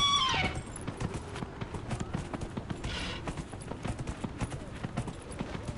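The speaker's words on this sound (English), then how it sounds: "We named the horse Bill." Horse hooves clip-clop at a steady walking rhythm in Dragon Age Inquisition, a brief whinny at the start, close and moderately loud.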